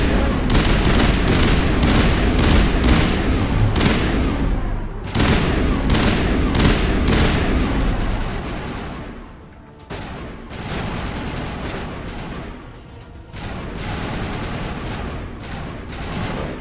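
Dense video-game gunfire from Mass Effect, sustained bursts of rapid automatic shots as cover fire, loud and close, broken by brief pauses before resuming.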